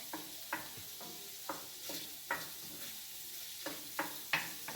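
Butter melting in a cast iron pan gives a soft, faint sizzle, broken by a series of light clicks and scrapes as it is stirred and moved around.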